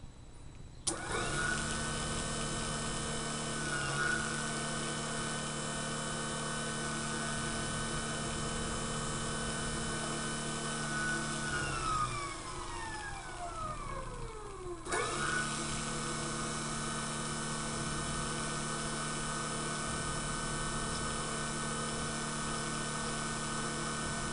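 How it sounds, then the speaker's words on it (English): An electric motor on an El Turbo OD/OV setup runs at 36 volts with a steady whine. Near the end it briefly winds down with a falling tone, then spins back up and keeps going. "So let's see what the motor draws at the 36 volts."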